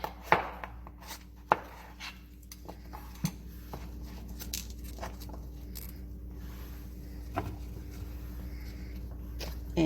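Zucchini is sliced on a cutting board with diagonal cuts, giving a string of sharp, separate knife knocks against the board. The chops come at irregular intervals over a low, steady background hum, with no talking.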